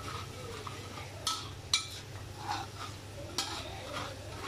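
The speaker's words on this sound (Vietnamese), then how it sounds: "Cái mình lấy cái sạn á, mình đẩy qua đẩy lại vậy nè." A spatula stirs a soy milk mixture in a pot over low heat, making quiet scraping strokes and a few light clinks against the metal, with soft bubbling underneath.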